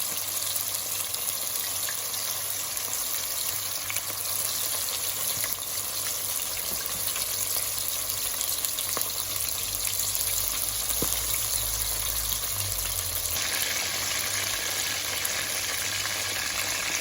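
Chicken pieces frying in a pan for sweet and sour chicken, a steady dense sizzle close by, continuous and unbroken with no talking.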